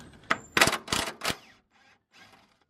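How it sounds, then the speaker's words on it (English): An impact wrench with a socket hammers at a 12mm bolt in a few sharp, rattling bursts close by, then the noise drops to faint scraping and handling sounds. "I'm just using a socket on my impact wrench"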